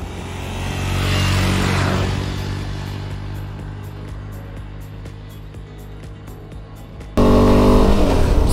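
A motorbike's engine drones steadily near the microphone at Magnetic Hill near Leh, swelling and easing as it rides off, then cut by a louder burst of rough wind-buffeted engine noise.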